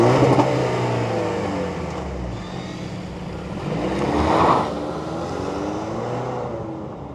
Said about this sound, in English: let's fire up this 4-cylinder turbo and see this Tacoma roll